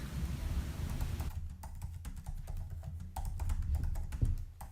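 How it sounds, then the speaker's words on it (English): Quiet, rapid tapping on a computer keyboard, irregular clusters of light key clicks close by in a still room, with no voices. "I'm typing a goal."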